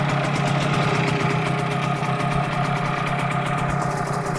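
A HANGKAI 6.0 outboard motor idles at a steady, even rumble, with a faint knocking pulse running through it; the engine sounds close, loud and continuous, with no talk.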